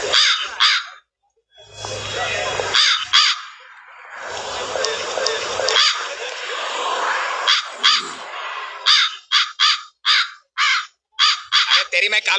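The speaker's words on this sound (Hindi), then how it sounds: "भाई ये कौवा कहाँ बोल रहा है यार?" A crow caws in a rapid series of harsh calls, loud and near, mixed with stretches of lively talk from men in a comedy sketch.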